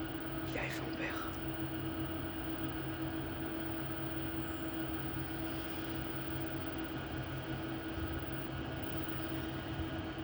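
A steady, continuous rumble of a freight train hauled by a Traxx locomotive rolling by, constant and unbroken throughout.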